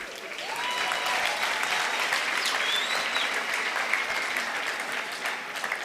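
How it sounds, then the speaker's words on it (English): Crowd clapping at a University of Namibia graduation in Windhoek, rising quickly into a dense, even round of applause with a few scattered whistles. "let's give another round of applause"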